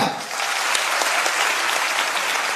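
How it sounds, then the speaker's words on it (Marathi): Loud, dense applause from a large crowd at a motivational speech event, honouring the Vichar Manch. It fills the whole stretch as a steady, continuous roar without breaks. "एकदा विचार मंचासाठी जोरदार टाळ्या होत्या."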